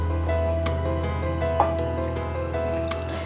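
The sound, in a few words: water poured into sardine curry in pan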